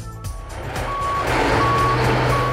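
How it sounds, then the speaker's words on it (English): A backup alarm on mining mobile equipment beeps in a steady, evenly spaced rhythm over the loud, continuous rumble of a heavy truck engine, with no talk. "Recognize the sound of a backup alarm on mobile equipment"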